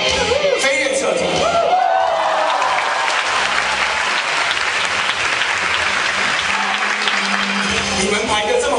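Loud, sustained applause from a university taekwondo club audience after a flying side kick demonstration at a freshman night, dense clapping running throughout with a few whoops and shouts.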